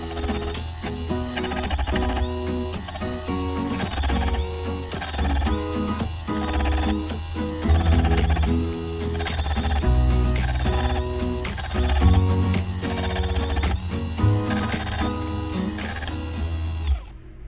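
A bench grinder sharpening a chainsaw chain, a steady whining motor hum broken by regular, repeated grinding contacts as the chain is tapped against the wheel, sounding close and loud.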